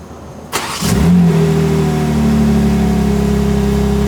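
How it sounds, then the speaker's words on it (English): A BMW M3 G80 starts by remote: a sharp starter whir, then the engine catches with a loud flare and settles into a deep, steady idle close by. "you can remote start your car"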